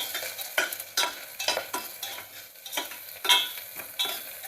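Ingredients stir-fried in a pan for street-style Chinese chicken soup, rhythmic bursts of sizzling and spatula scraping repeating every half second or so, close and fairly loud.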